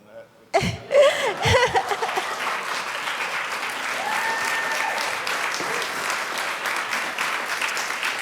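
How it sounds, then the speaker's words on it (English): Applause from the audience at an academic symposium for the Ivan Allen Jr. Prize for Social Courage, starting after a few coughs and sharp sounds, then a steady moderate clapping that carries on to the end. "We really needed better applause than that."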